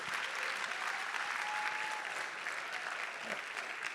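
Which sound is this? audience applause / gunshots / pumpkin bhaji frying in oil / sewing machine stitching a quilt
audience applause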